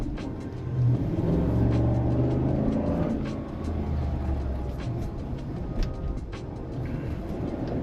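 Toyota Land Cruiser 300 Series on 24-inch wheels with low-profile tyres, driven around the block: a continuous low engine rumble and road drone heard from inside, with faint ticks and knocks throughout.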